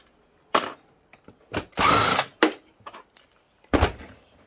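The last two screws come out of a scrap metal item under a power driver, in short bursts of whirring and rattling separated by silences, close and fairly quiet.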